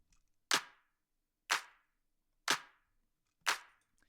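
Four crisp electronic clap samples from a minimal techno track, evenly spaced one per second, each a sharp snap with a short decaying tail over silence.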